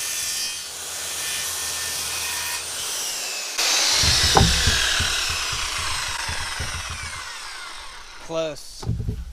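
A saw rips a cut through a DIY countertop during a school bus conversion, giving a steady, loud rasping drone that grows stronger midway and continues throughout before tapering near the end.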